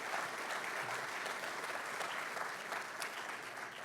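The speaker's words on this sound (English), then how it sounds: "Let's give them a round of applause." A crowd at a Super Bowl LV kickoff event applauds steadily at moderate distance, a dense even wash of clapping that holds throughout with no speech.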